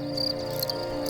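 A field cricket chirps by rubbing the ridged edges of its wing cases together, giving a close, steady high-pitched trill that pulses briefly and stands alone without voices.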